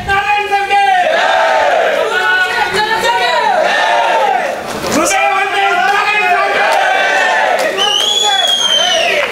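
A crowd at a Karnataka Film Chamber event shouts slogans in unison. The loud, rhythmic chanting carries through the whole stretch, with one voice leading and a full crowd answering in repeated rising bursts.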